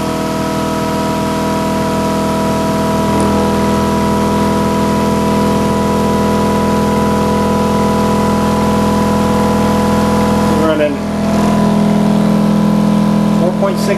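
An electric motor spins three stacked neodymium magnets at 2300 RPM, a loud steady whine with layered hum tones close up, dipping briefly near the end as the speed is cut.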